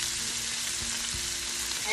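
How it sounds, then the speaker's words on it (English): Citrusy garlic sautéing in a pan with shrimp for a blackened shrimp naan pizza, a steady close hiss of sizzling oil with no speech. "we're just gonna saute it and let it come together"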